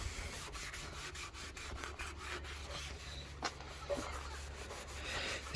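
Van bodywork on a Vauxhall Astra van being rubbed down with an abrasive pad before painting, a continuous close scrubbing with repeated back-and-forth strokes.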